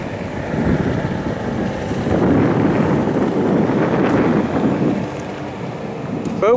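A 2004 Rinker 270 boat with a 350 engine and Bravo 3 drive running at full throttle down a channel: a steady, loud engine roar mixed with heavy wind buffeting on the microphone, continuous throughout with no speech.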